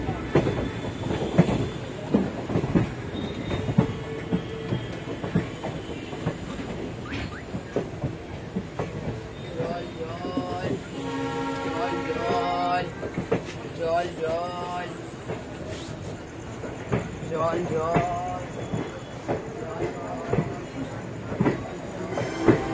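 A passenger train pulls into Bandel Junction station, its wheels clattering and squealing over the rails, with voices talking throughout amid station bustle.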